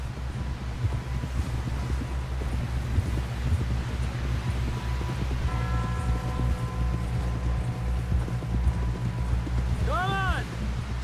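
Steady clip-clop of horse hooves in Red Dead Redemption 2, under constant wind and rumbling background, with a brief tonal chime and a voice near the end.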